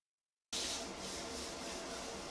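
After a brief silence, steady hand sanding begins: a continuous soft rasping scrape of abrasive on wood, even and close.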